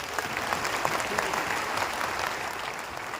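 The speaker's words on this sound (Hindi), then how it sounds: "ये ताली आपने मेरे लिए बजाई है या जाति की विदाई में बजी है?" Steady audience applause during a speech, a dense wash of many hands clapping at a moderate distance, continuous and even with no voice over it.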